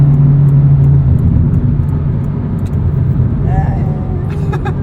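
A 2009 Honda Civic Si (8th generation) engine revs while driving, a loud steady rumble that swells briefly, heard from inside the cabin with people talking over it.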